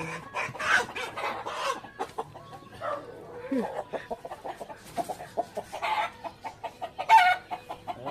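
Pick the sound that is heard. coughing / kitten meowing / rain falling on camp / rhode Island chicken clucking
rhode Island chicken clucking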